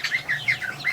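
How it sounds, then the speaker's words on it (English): Newly hatched Muscovy ducklings peep in quick, high, repeated chirps from close by, several short calls in a rapid series with no talking. "Baby quacks."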